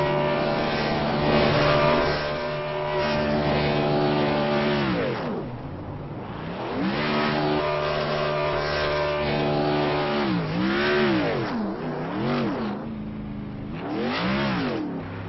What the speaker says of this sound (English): Travers, start your engine!